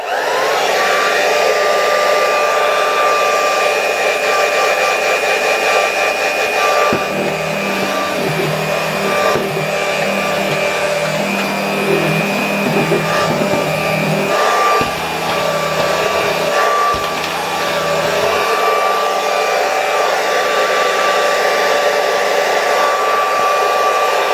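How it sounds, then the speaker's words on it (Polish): A 1992 Royal Dirt Devil 150A vacuum cleaner, powered through a voltage regulator, runs steadily and loudly throughout with a high whine and a constant roar, its motor tone shifting slightly partway through. "Włączę zasilanie, włączę odkurzacz."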